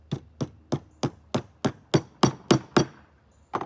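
Nails driven with a hammer into pre-drilled holes in wood while assembling an art caddy kit: ten sharp, evenly spaced strikes in quick succession, close and loud, followed by a brief pause and another blow.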